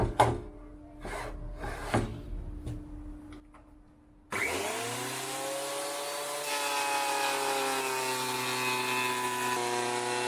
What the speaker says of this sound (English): first want to plane it and make it like nice and rectangular